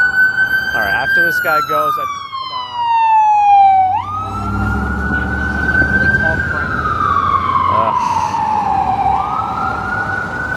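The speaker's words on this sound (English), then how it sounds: "The ambulance is coming." Ambulance siren passing along a New York City street, loud and near, its wailing tone sweeping slowly up and down with a shift in pitch as it goes by over traffic rumble, with a brief spoken remark early on.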